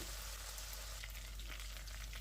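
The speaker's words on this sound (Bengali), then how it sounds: "তো এখন সবগুলো মশলা দিয়ে ভালো করে একটু ভেজে নিচ্ছি।" Spices sizzle and fry in a pan for a chicken curry, giving a steady, faint hiss throughout with no talk.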